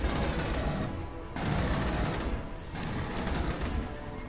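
Rapid, sustained gunfire and explosive bursts from the video game Aliens: Colonial Marines, loud and dense throughout with brief dips, including pistol shots amid the barrage.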